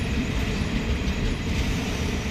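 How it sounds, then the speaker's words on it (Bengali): A train rolls into a station at night, a steady low rumble of wagons on the rails with a faint rattling clatter, fairly distant and continuous, with no voices. "এই যে রাতে একটা ট্রেন ঢুকছে এখন"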